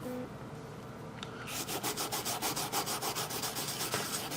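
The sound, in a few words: rubbing over a kolrosed design on wood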